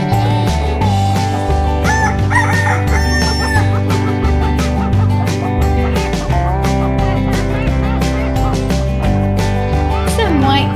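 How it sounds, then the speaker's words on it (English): Toy farm set sound effects of a rooster crowing and chickens clucking, heard over loud, steady background music with a rhythmic bass line. "Love the chooks and of course the rooster."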